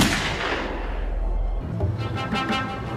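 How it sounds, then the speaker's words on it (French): One loud, booming gunshot at a motel decays into a long rumbling echo, followed by faint rustling and movement noises. "le tireur arrive à leur hauteur et tire un seul et unique coup de feu"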